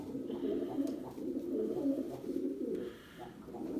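Pigeons coo in a low, steady, rolling murmur, close by and continuous, with a faint soft rustle now and then.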